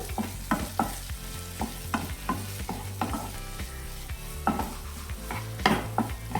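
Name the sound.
tomatoes being sautéed and stirred with onions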